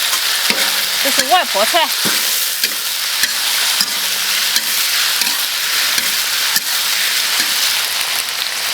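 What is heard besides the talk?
stir-frying konjac in a wok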